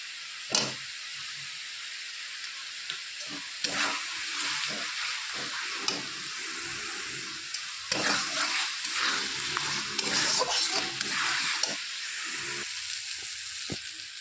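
Spice paste for a silver carp fish curry frying and being stirred in a pan, a steady close sizzle broken by repeated scraping stirs and sharp clatters, with no talk.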